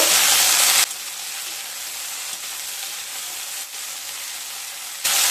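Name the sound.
potatoes and bitter gourd being stirred and fried in a pan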